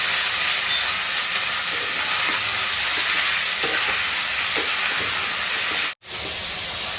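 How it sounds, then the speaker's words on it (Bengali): Cauliflower, capsicum, beans, carrot and potato fry in a pan with a loud, continuous sizzle and hiss, faint stirring scrapes showing through, then a sudden brief cut before the frying resumes. "ফুলকপি, ক্যাপসিকাম, বিনস, গাজর সব মিশিয়ে একটা ভাজা করছি।"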